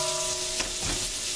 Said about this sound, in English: put the onions and 3 strips of bacon back in, which I'm doing now